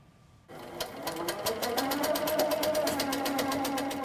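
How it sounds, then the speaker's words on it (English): A quilter's sewing machine starts up after a brief quiet and runs with a fast, even mechanical whir and rapid needle ticking, close and steady, rising slightly as it settles into a constant pace. "The sewing machine makes a whirring melody."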